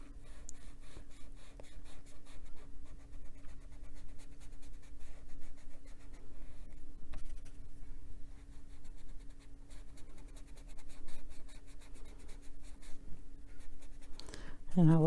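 An Inktense pencil rubs steadily across paper as it colours, a continuous close scratchy texture of rapid strokes that runs throughout, with a low hum underneath and a voice breaking in at the very end.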